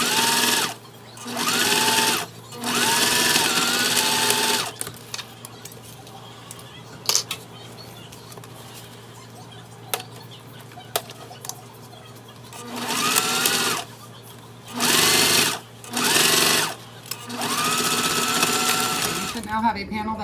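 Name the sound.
sewing machine top stitching a wristlet panel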